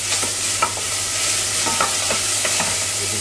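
Vegetables sweating gently in a pan without browning, a continuous close sizzle with a few soft stirring scrapes.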